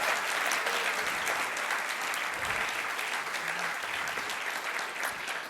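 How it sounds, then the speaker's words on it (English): Sustained audience applause at a student innovation competition world final, dense, even clapping from a large crowd continuing without a break. "You can applaud again."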